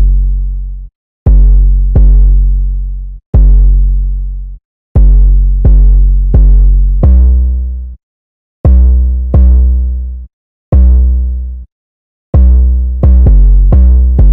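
Deep 808 bass hits in a simple pattern programmed in FL Studio for a trap-style beat, loud sustained booming notes with short gaps, repeating alone without talk.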